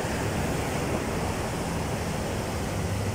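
Water gushes steadily from a fire hydrant near a tunnel area, a loud, constant broadband rush with no pauses, no voices over it.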